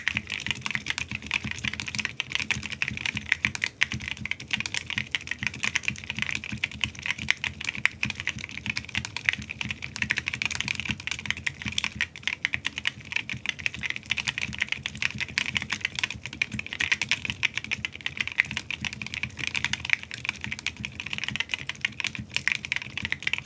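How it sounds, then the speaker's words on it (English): Fast, continuous typing on a Freja 65 mechanical keyboard with ceramic keycaps, rapid sharp clacks in an unbroken rhythm, close and fairly loud, with no talking. "let's do a 100-word typing test and see how this guy sounds"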